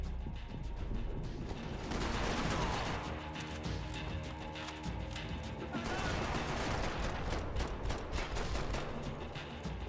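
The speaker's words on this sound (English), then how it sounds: "Why is he still shooting?" Dense, continuous gunfire from an enemy in the video game Max Payne 3, sustained rapid bursts with crashing impacts, loud and close, running for the full stretch without letup.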